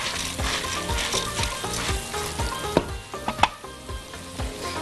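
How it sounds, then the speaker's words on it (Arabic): Chicken kofta fries in a pan with a steady crackling sizzle, broken by scraping and clinking as it is stirred and turned, with several sharper pops toward the end. "حمرت من ناحيه، بنقلبها الناحيه الثانيه"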